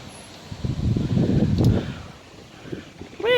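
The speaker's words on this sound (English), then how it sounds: "it is really, really windy" Strong outdoor wind gusts and buffets nearby, a low rumbling roar swelling in the middle and easing off, with no talk.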